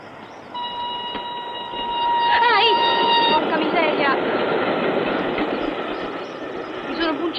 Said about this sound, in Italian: Maria, arriva l'altro treno.